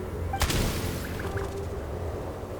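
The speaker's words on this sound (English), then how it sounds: "There's the gunshot." A single sharp gunshot rings out in the video game Genshin Impact, a quick loud crack that fades into a low, steady ambient rumble with no talking.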